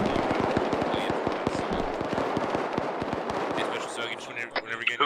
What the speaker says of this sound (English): Who's shooting? What are you shooting at?